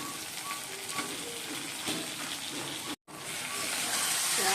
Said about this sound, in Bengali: সব দিয়ে দিচ্ছি। দিয়ে ভালো করে কষিয়ে নেবো।